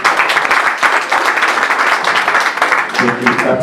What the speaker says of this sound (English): A round of applause for our chairman.